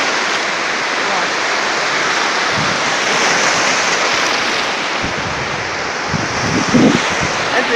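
Sea surf and wind at the coast near Lazurne, on a stretch between an estuary and the sea, form a steady, loud, broadband wash, with a few low rumbling gusts near the end and no talk.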